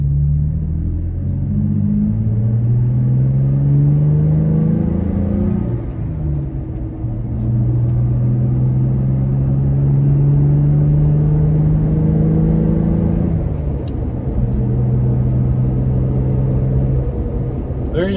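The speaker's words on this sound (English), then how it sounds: "We're starting from a 10 mile an hour roll, and we're going to get on up to about 55." A 2020 Toyota Tacoma fitted with an S&B cold air intake accelerates from a slow roll up to highway speed, a steady loud engine drone rising through gears with a brief dip mid-run.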